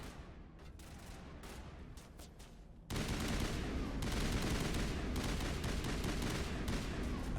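Gunfire from a sniper rifle in the video game Mass Effect starts abruptly partway through, after a quieter stretch, then continues as a dense, loud barrage of shots.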